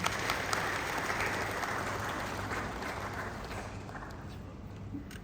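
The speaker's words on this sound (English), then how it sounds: "Another round of applause, please." Audience applause at an African Union anti-corruption event, a steady crowd clapping at moderate distance, sustained and even across the whole stretch, with faint voices underneath.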